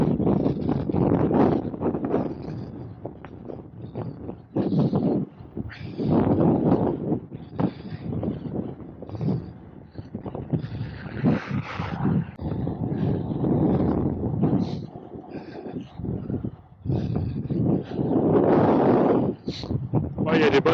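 Gusty wind buffets the microphone during a cold, sunny bike ride, surging loudly in uneven bursts with roaring low rumble throughout, rising and falling with each gust.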